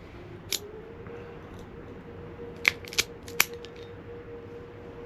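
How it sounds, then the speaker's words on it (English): A cigar from the La Aurora 120th Anniversary line being cut: a sharp crisp snip, then a cluster of three quick clicks and snaps a couple of seconds later, close over a low steady hum. "I'm gonna go ahead and cut this."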